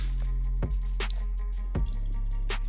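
Water drips and trickles out of a car's oil catch can, with a few soft splashes over a steady low hum, close by and with no talk.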